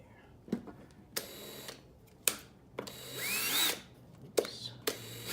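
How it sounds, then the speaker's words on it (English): A small drill bit bores a hole for a homemade phone cradle in several short bursts, each a whining spin separated by brief pauses and light clicks, close by. "start with a small drill bit first to get that hole established right there"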